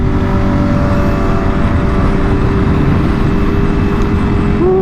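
A 2022 Ducati Panigale V4 motorcycle engine drones loud and steady at constant revs while riding, close up, with heavy wind rush over it.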